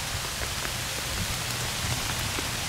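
Steady rain falling outdoors on surfaces around a clay ceramic armor test site, a dense, even patter close by with no voices.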